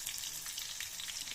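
Brief, faint hiss and crackle of seasoning with cabbage, tomato and chili frying in a pan, a steady sizzle with no talk.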